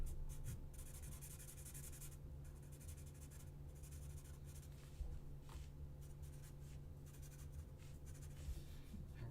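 Pencil or pen drawing a quick sketch on paper, a faint continuous scratching and rubbing with short strokes over a steady low hum, close but very quiet.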